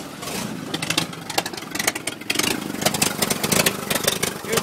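A cold COE truck engine idles on its own with no throttle, giving a steady mid-pitched running rumble with some clatter and no voices.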